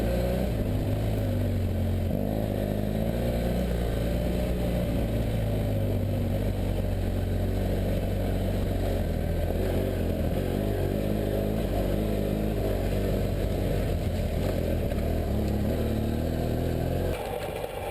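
BMW F800GS motorcycles ride a rough, narrowing offroad trail at cruising speed, a steady close engine drone with wind rumble that holds without pause throughout.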